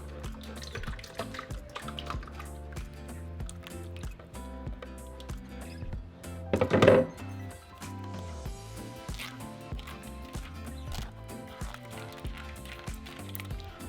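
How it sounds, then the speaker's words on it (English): Over soft background music, a short splashy gush of half a cup of water is poured into a blender for about a second, then the music continues alone. "I'm going to add 1/2 cup of the same water into my blender"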